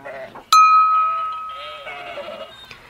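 Sheep bleat outdoors while being let out of a pen. A sharp clank is followed by a loud, sustained bleat close by, with softer bleats and animal noise after it and a voice talking faintly underneath.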